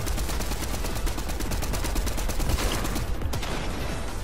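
Sustained rapid gunfire in a video game firefight, loud and continuous automatic shots rattling for several seconds, easing slightly toward the end.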